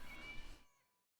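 A cat in the Genshin Impact video game gives one short, soft meow that fades out quickly, faint and alone.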